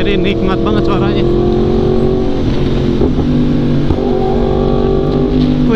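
Yamaha R1M superbike engine revving hard at close range, its loud dense roar running steadily through quick upshifts and downshifts with the auto blipper adding short rev bursts.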